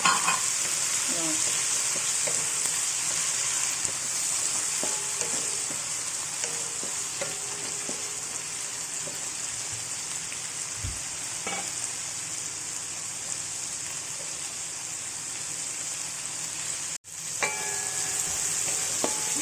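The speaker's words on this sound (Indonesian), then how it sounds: "Tumiskan halus pengganti saus tomat." Ground tomato-substitute paste sautéing in a pan for buttered prawns, a steady loud sizzle running throughout with occasional faint clinks and scrapes, no talking.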